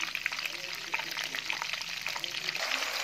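Chicken pieces frying in hot oil, a steady crackling sizzle with light bubbling and stirring, heard close under a voice talking.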